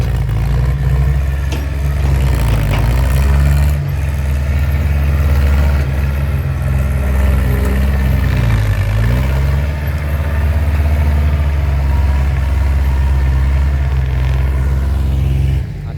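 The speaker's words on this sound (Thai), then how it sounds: "รถไถเองครับ" A heavy tractor engine rumbles steadily at idle, loud and close, with low throbbing and occasional clatter, no voices.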